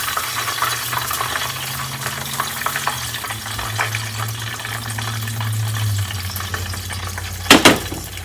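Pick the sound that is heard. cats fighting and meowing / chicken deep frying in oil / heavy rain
chicken deep frying in oil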